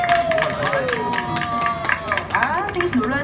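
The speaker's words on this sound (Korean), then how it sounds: "박수 한번 주세요." Clapping and crowd noise fill a KBS radio studio as an audience applauds OH MY GIRL members, with Korean talk and chatter over it.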